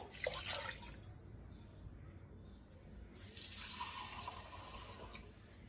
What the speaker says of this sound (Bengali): আমি এখানে আরেকটু জল অ্যাড করে দেব